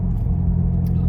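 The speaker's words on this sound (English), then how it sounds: "excuse the noise in my car" Steady low rumble inside a moving car, with road and engine noise filling the cabin throughout and a faint rattle near the end.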